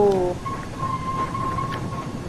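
Flying Scotsman steam locomotive whistle in Train Sim World 4 on the West Somerset Railway, a brief multi-tone blast followed by a long, thin, steady whistle tone over low rumbling running noise.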